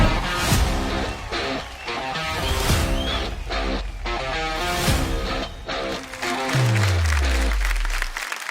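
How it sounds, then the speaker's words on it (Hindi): A stage audience at a grand finale show applauds loudly to welcome a guest actor, with dense sustained clapping throughout and a descending tone sweeping in near the end. "जोरदार तालियों से स्वागत कीजिए लेडीज एंड जेंटलमैन"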